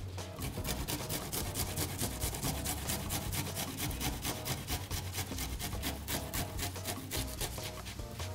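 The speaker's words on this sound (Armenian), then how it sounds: "երկու միջին պճեղ սխտոր ենք քերում" Two medium garlic cloves grated on a metal grater for a stuffed cannelloni filling, a steady fast rasping scrape with regular rhythmic strokes, close and continuous, without talk.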